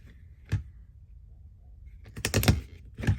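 A craft paper punch clacks through paper in a few sharp, close snaps: one isolated punch, then a quick cluster of clicks and a final snap.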